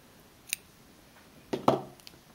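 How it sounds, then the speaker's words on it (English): Scissors snip through crochet yarn at close range: a faint single click, then a louder, slightly squishy cut a second later, quiet overall with no talking. "Now I will pull some yarn and I will cut it"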